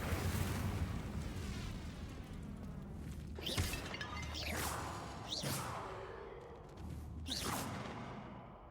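Incendio fire spells cast repeatedly in Hogwarts Legacy, a game, each one a bright whooshing burst that flares and crackles, four or five blasts spaced about a second apart over a low steady background.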